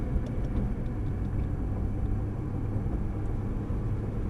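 Nissan GT-R engine heard from inside the car on a track straight, a steady loud low rumble with no clear gear-change break.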